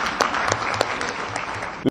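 Women clapping at a Women's Day (8 March) celebration, a short burst of scattered applause with several distinct sharp claps near the microphone and a strong final clap at the end.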